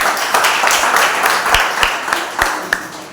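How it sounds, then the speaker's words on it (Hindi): Church congregation clapping hands during a Sunday service, with a steady ripple of applause marked by a few sharper individual claps, fairly close and loud. "आपस में एक ताली बजाइए"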